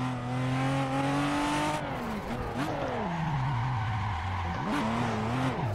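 A Toyota Supra drifts in the video game Assetto Corsa, its engine revving and dropping in pitch over a steady bed of tire squeal and skidding, loud and continuous, with the revs climbing again near the end.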